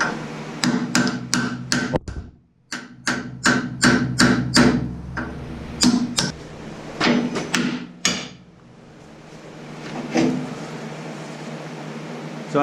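A hammer strikes metal in sharp, ringing blows, mostly in quick runs of several hits with short pauses between, close and loud.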